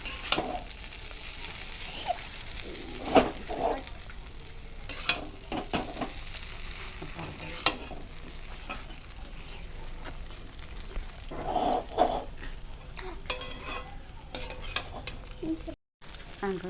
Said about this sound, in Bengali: ভালো করে আমরা নাড়িয়ে ফেলবো